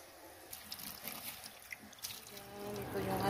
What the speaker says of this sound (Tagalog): Lagyan ng tubig.